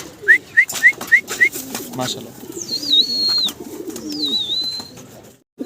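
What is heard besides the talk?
German Beauty Homer pigeons cooing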